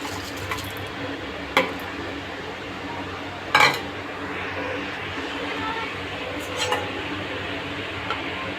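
Rice and toor dal go into a pressure cooker in a home kitchen, with a few clinks of a metal bowl and cooker against each other over a low steady background, and a voice speaking softly.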